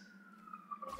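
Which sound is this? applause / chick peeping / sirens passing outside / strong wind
sirens passing outside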